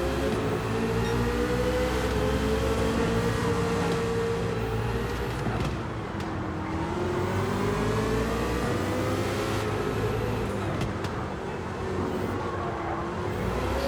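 Chevrolet Corvette CX-R VGT engine in Gran Turismo 7 at the Nurburgring, roaring loud and continuous with rising and falling revs as the car accelerates and shifts, no voices over it.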